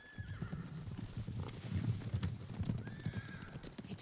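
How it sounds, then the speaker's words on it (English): Horses in the Ghost of Tsushima video game gallop with steady hoofbeats while loud neighs and whinnies ring out above them, close and continuous for about four seconds, with no voices. "Horses, they're coming for us."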